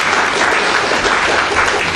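Audience at a talk on communicating with children applauding, dense steady clapping from a full room, loud and sustained for the whole stretch with no voices on top.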